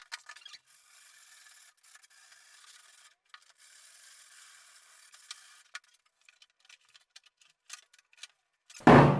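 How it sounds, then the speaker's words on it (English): Rough sandpaper rubs against a wooden couch-table part in short, raspy back-and-forth strokes, fairly close and moderately loud, with brief pauses between passes and a louder knock at the end. "I'm going to grab some sandpaper again. So this time I'm using much more rough sandpaper."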